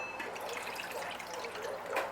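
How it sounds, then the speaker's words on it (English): Water from a measuring cup splashes steadily into a bowl of garlic-flavoured damper batter, a close, continuous liquid pour with a brief louder gush near the end. "we want to put 1 cup of water in there"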